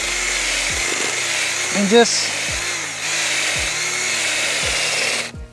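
A mostly plastic power drill grinds steadily, boring into rocky ground for a T-post, with dull periodic thumps and a brief spoken word over the whirring.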